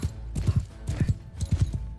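Horses in Mount & Blade II Bannerlord clip-clop in quick paired hoofbeats, a steady galloping rhythm repeating several times over a soft background of battle ambience.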